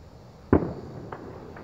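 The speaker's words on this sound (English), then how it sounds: "we're still having fireworks" A single sharp firework burst on a rainy July 5th evening outdoors, followed by two fainter distant pops with quiet gaps between them.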